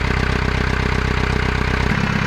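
Boat engine started for the first time in over a month and left idling, a loud close rhythmic chugging with an even knock that shifts lower near the end.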